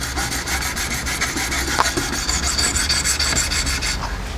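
A Jende Reed knife blade stroked against the stones of a Wicked Edge sharpener: quick, even rasping strokes in a steady rhythm, close and clear, with no talking.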